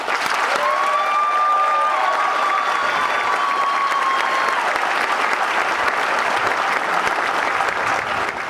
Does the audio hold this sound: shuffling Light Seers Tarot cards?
no